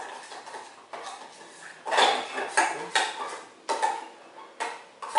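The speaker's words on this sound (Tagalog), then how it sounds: "Then haluin mo lang. Hanggang sa matunaw yung roux sa kanya." Roux and milk stirred in a pan for a salmon spinach cream, a spoon scraping and knocking against metal in uneven strokes, close and fairly loud with no talking.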